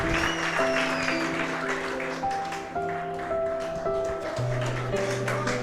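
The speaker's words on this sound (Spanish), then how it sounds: "Fuerte los aplausos." Guests at a church wedding clap after the couple's kiss, a moderate patter of applause under sustained organ-like musical tones and a few faint voices.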